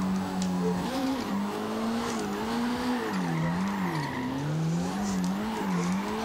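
A 1991 BMW M3 E30 drift build in Forza roars at high revs with a wavering engine note, while tires squeal steadily through a drift, loud and continuous with no talk.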